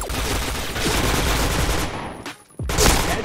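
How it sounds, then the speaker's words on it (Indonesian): Rapid gunfire from the SC weapon being test fired in the video game Point Blank. Dense, loud bursts run nearly continuously, with a short gap before a final burst. "Untuk SC-nya kita tes nembak"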